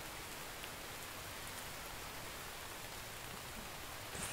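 Steady rain falls in the video game The Infected, a constant even hiss of drops on surfaces heard alone at low, unbroken level for a few seconds.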